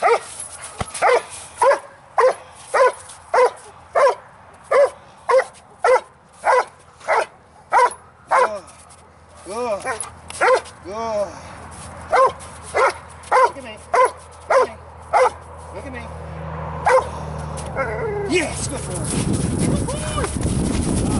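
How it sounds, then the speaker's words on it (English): A dog barks repeatedly during bite work training, in a steady rhythm, loud and close, with a few whimpery yelps in the middle and a brief pause before more barks. "I want to make sure he's looking at me barking"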